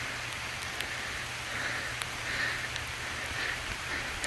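Rain falls steadily outdoors beside a trailer under construction, making an even wash of patter with occasional sharper drips landing close by.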